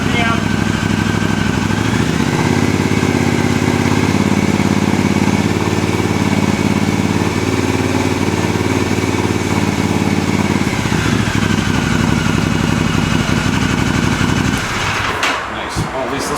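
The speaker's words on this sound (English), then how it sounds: "you do want to kind of give it some throttle to see if it's going to stay even" Air-cooled Triumph motorcycle engine running during a carburetor sync, a steady close idle with throttle raised to a higher even hum around cruise RPM, then falling back and cutting off near the end.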